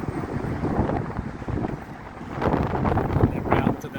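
Gusty wind buffets an outdoor microphone on a pavement, giving a steady low roar that swells louder toward the end, with a voice faintly mixed in.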